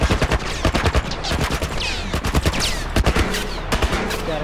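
Rapid gunfire crackles in The Last of Us video game, a dense volley of loud, close shots in quick irregular bursts with brief gaps, continuing without pause across the stretch.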